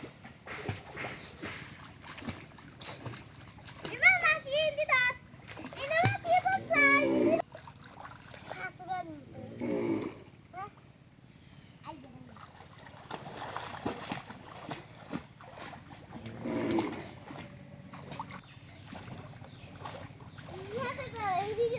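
A person swimming in a village pond makes intermittent splashes and water churning, heard from nearby at moderate level, while voices, including a child's, talk over it throughout.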